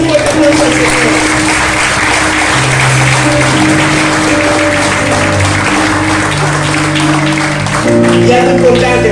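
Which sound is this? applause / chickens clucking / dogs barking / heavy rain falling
applause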